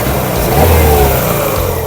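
Loud, close revving of a Chevrolet Aveo's 1.6-litre 16-valve F16D3 petrol engine, a steady rough roar that swells slightly in the middle of a short burst.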